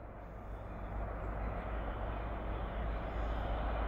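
Train rolling through a loud railroad crossing, a dense continuous rumble and rattle of wheels on rails that builds slightly and stays close and heavy throughout.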